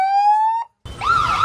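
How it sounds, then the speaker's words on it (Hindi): A remote-operated siren hooter fitted to a bicycle wails loudly in a steady tone, cuts out briefly, then returns with a rising and falling siren sweep. "तो गाइस अभी हमने मस्त हूटर ले लिया है"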